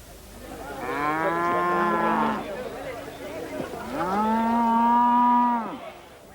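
Cattle at an island cattle show on the Isle of Arran moo loudly in two long, drawn-out calls, close by, with faint outdoor background between them.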